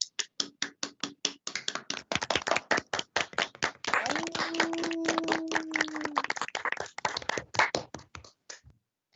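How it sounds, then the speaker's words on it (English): A small audience applauds at a university honors thesis symposium, with distinct individual claps in a scattered, uneven rhythm for about nine seconds, thickening in the middle and then thinning out, recorded fairly quietly. "Let's give Brianna an applause."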